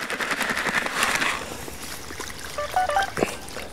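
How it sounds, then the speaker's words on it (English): Fishing pellets are poured into a tub of water, making a bright rattling, splashing patter that peaks early, then eases into light trickling with a few small drips and clinks. "Add my pellets to the water."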